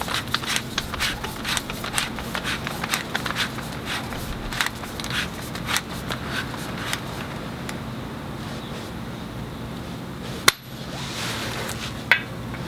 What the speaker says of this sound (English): Set our torque wrench to 130 foot-pounds.